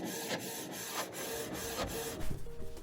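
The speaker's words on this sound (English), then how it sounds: "I went ahead and set up my printer and I put in the label sticker paper in and started to print." A printer printing on label sticker paper, with rhythmic mechanical rubbing passes and periodic clicks as the paper feeds, steady and close with no talk, then a louder shuffle near the end.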